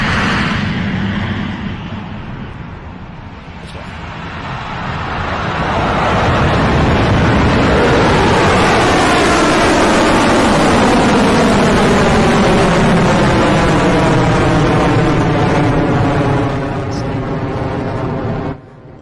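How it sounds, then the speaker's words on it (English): Launch of a Rocket Lab Electron rocket: a broad, roaring rumble builds over several seconds and then holds steady and loud, with a crackling, wavering texture and some wind buffeting on the microphone. "Distinctive Electron launch sound"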